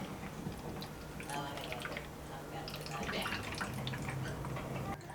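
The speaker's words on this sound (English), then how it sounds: "You'll squeeze the water in." Water squeezed from a bottle into the water seal chamber of a chest tube drainage system, faint trickling and dripping, heard quietly and close over a few seconds.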